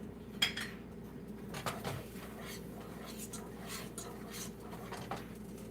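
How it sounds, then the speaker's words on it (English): A whisk works milk into a roux in a pot, producing repeated light metallic clinks and scrapes against the pot over a low steady background hum. "you're going to keep slowly adding milk and whisk in the milk"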